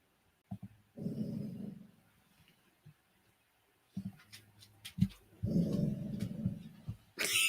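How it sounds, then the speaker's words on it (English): A pet dog gives low, rumbling growls indoors in two sustained bouts, separated by quiet gaps with a few soft snorts and clicks. "Hear my dog growling?"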